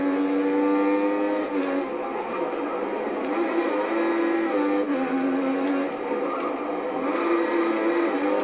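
Formula 1 racing car engine in a video game, a steady high-pitched drone held at near-constant revs throughout, loud and close with no talk.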